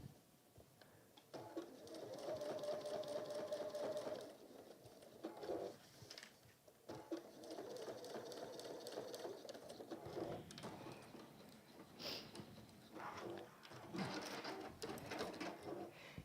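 A sewing machine top stitches a textile mug carry, running in steady bursts of rapid stitching broken by short pauses, close and fairly loud with no voices.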